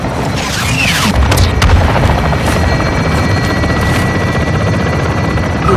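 In Modern Warfare II, a helicopter air strike thunders with a heavy, continuous rotor roar layered with booming explosions and crashing impacts, all loud and dense throughout.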